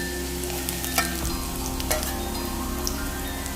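Thin strips of ginger and chopped garlic sautéing in hot oil in a pan for carrot pickle, a steady dense sizzle with a few stirring scrapes, close and continuous without talking.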